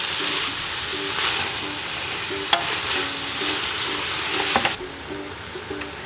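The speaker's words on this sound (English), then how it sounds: "What you need to do is pretty much just let it cook and stir" Onions for French onion soup cook in a pot, a soft steady sizzle with occasional stirring scrapes and a couple of sharp clicks, the sizzle easing off near the end, with no talking.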